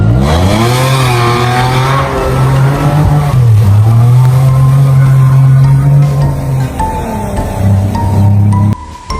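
A toy jeep plays a loud recorded engine-revving effect: a rough motor tone rises, settles into a steady drone, dips, and returns briefly near the end, with no one speaking.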